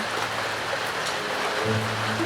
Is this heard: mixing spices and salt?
no